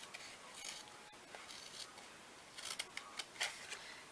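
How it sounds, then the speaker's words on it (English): Small scissors snip through cardstock along a score line during papercraft, a quiet run of short crisp cuts that clusters into several quick snips near the end, close and alone with no talk. "I just trim it, and because this is little, I'm going to use my baby scissors."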